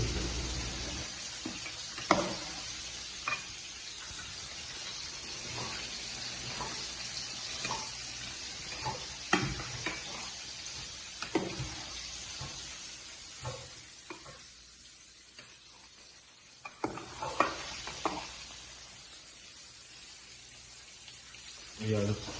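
Special pancit gisado noodles stir-fried in a pan, giving a steady low sizzle broken by scraping and clattering strokes of the spatula at an irregular rhythm, close and moderately quiet, with water noises at times.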